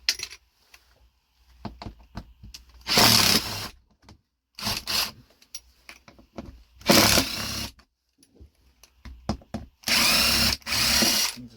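Bursts of a power drill driving self-tapping screws into aluminum flashing on a 1992 Winnebago Lesharo, several loud whirring runs separated by pauses with small clinks and handling noises between them.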